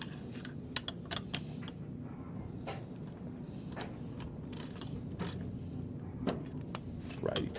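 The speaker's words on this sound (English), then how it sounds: "Have to drive him a little bit more with a socket." A socket wrench tightening an exhaust bolt on a GY6 scooter: sharp intermittent ratcheting clicks and metallic taps, close and irregular over quiet background.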